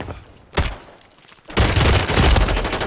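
Gunfire in the Warzone 3 video game: a single sharp shot, a short quieter lull, then a sudden loud, continuous burst of rapid fire that runs to the end, close and dominant.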